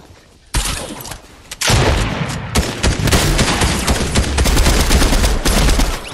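Rapid bursts of video game gunfire crackle loudly and almost without pause, a short lull early on giving way to dense, sustained automatic shooting.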